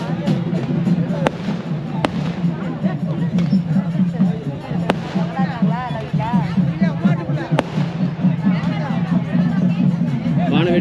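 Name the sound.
temple festival crowd with fireworks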